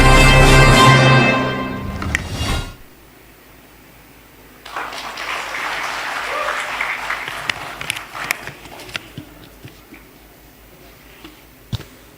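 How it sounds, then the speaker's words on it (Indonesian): Applause from an audience at a closing ceremony of a national prayer day in Nusantara, with a spoken announcement at first, then a short lull before sustained clapping swells and continues with scattered sharp claps. "Kita berikan tepuk tangan yang meriah"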